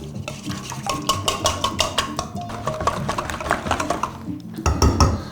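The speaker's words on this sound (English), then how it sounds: "there's some remaining marinade, so I thought I'll add it to the egg and beat it along with the egg" Egg being beaten with leftover marinade for chicken popcorn, a utensil clicking rapidly and steadily against the bowl, close and fairly loud throughout, no one speaking.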